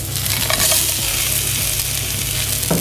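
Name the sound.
crispy tofu and vegetables frying in a pan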